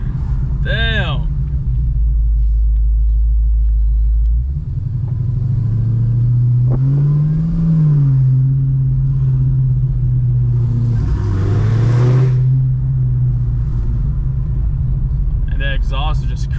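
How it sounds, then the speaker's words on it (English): Tuned Hellephant Chrysler 300 exhaust rumbles deep and loud from inside the car, rising and falling as it accelerates, with a person talking briefly over it. "And the exhaust is just crazy."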